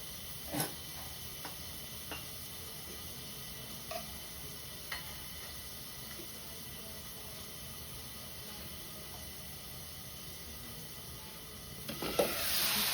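Tomatoes fry in oil under a lid, giving a soft, steady sizzle broken by scattered sharp pops and spatters. The sizzle swells louder in the last moment, and nobody speaks.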